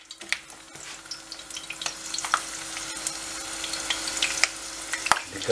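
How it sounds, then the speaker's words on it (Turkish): Albanian-style liver fries in hot oil with a continuous close hiss and a dense crackle, scattered with sharper pops and spits that grow slightly louder over time. "Hemen kızartma aşamasına geçiyoruz."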